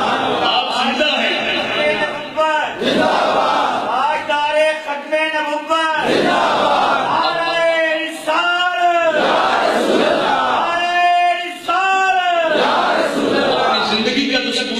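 A large crowd shouts the Khatm-e-Nabuwwat slogan in repeated rhythmic bursts, loud and close, each call a massed roar of voices rising and falling in regular waves.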